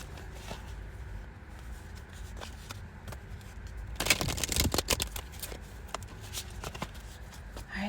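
A deck of cards is shuffled during a daily tarot collective reading, with soft riffling and crackling at a steady level, then a louder burst of riffle snaps partway through followed by lighter tapping and ruffling.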